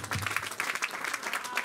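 A church congregation claps steadily, a brief burst of applause at moderate volume.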